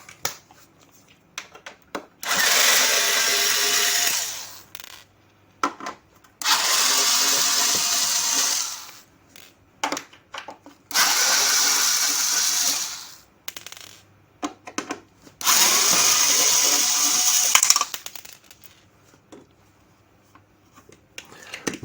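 Bolts are unscrewed from the case of a Casio CDP-200R digital piano in four loud whirring bursts of a few seconds each, separated by short pauses with small clicks.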